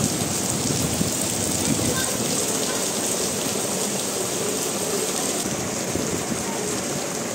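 Steady, heavy rain pouring down, a dense continuous hiss of drops hitting surfaces close by, with no breaks throughout.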